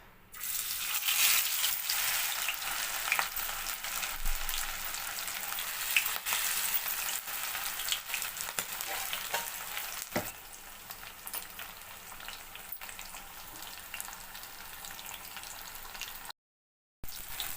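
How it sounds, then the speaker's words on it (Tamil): Marinated pomfret frying in hot oil, a dense, continuous crackling sizzle that holds steady throughout, with a few faint clicks and a brief dropout near the end. "நம்ம எண்ணெயில் பொரிச்சு எடுத்துக்கலாம். மீனை வறுத்துக்கலாம்."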